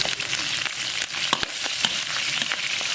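Scallion, ginger and dried chili hitting hot rendered pork belly fat in a home wok, a steady close sizzle and crackle with scattered pops and stirring scrapes throughout, no voices.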